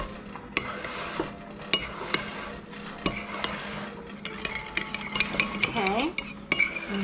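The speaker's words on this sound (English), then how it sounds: "We're gonna mix this up." A spoon mixing a korokke mixture with brown sugar in a bowl, clinking and scraping in irregular strokes close by, with a few sharper knocks and a faint voice in the background.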